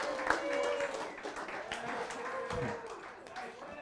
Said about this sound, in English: Round of applause for the girls.